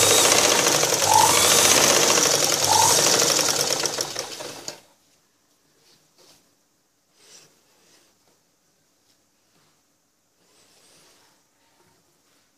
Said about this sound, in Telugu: ఈ విధంగా టైట్గా పట్టుకొని మనం స్టిచ్చింగ్ చేసుకోవాలి